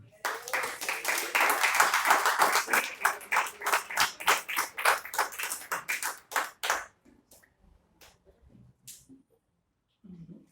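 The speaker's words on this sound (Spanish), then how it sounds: "¿Cuánto da un aplauso al Señor?" A church congregation applauds the Lord during a family sermon, with loud, fast clapping that thins into scattered claps and a few last taps before falling quiet.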